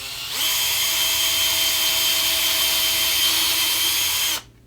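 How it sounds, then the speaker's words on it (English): A power drill bores a tiny hole through a painted Telecaster guitar body, whining steadily and loudly at close range for about four seconds before stopping abruptly. "on a Telecaster like this, you'll drill a tiny little hole like this"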